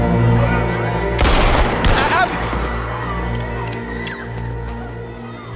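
A TV show (FROM, season 1 episode 8) plays a short, loud burst of rapid gunshots. Sustained music and voices continue around the shots.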